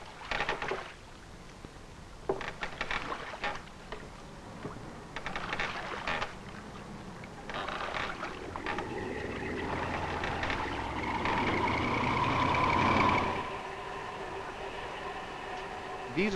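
Small fast Seegrenzschutz border-patrol boats run across the water, a steady engine roar rising and swelling toward the end before easing off, with faint scattered knocks early on.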